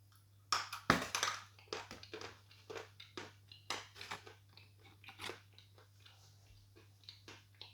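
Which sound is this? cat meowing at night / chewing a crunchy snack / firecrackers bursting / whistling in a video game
chewing a crunchy snack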